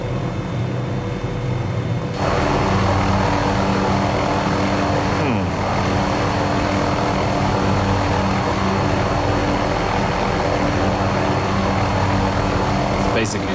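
A float plane's propeller engine in Microsoft Flight Simulator 2020, a loud continuous droning hum with a sudden jump in level early on, then a steady roar throughout.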